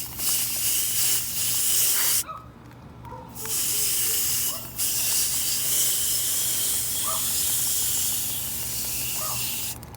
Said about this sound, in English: We'll wash it off with some water, take a look at it again, and see if we need to spray it again.